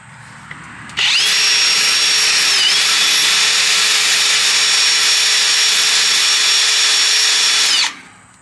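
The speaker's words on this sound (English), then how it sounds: "That's if I can get it to drill, because it does not want to drill through this bolt." A power drill strains against a bolt it struggles to bite into, one loud, close, steady high whine held for about seven seconds with a brief dip in pitch midway before cutting off.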